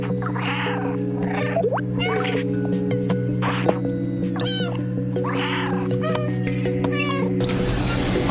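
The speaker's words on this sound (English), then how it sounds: "So I do have a purpose for meowing like this." A cat repeatedly meows in the video game Stray, about eight short, clear, close meows at a loose rhythm over a steady hum of background tones.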